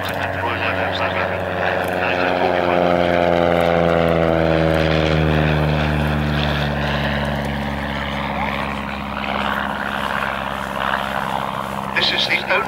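A 1937 Miles Whitney Straight vintage propeller aeroplane passes overhead at Abingdon, its engine drone loud and steady with a sliding pitch as it flies by, while a voice talks faintly over it.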